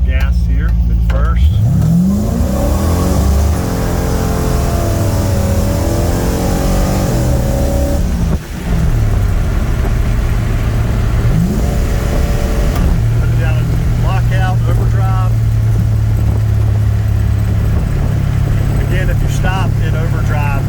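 A 377 small-block Chevy V8 in a car with a 200-4R overdrive transmission, loud and close, revving up and settling back repeatedly, with a person talking over the engine.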